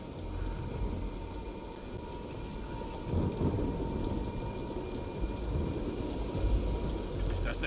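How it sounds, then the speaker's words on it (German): Thunderstorm in the Tomb Raider video game, a steady roar of rain with deep rolling thunder swelling after a few seconds, continuous and fairly loud with no talk. "Nein, wir warten den Sturm ab."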